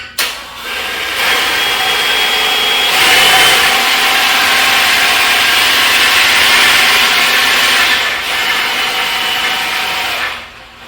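A Big Blue motorcycle lift lowers with a loud, steady mechanical whir, near and continuous for about ten seconds, rising slightly midway before winding down, with no voices.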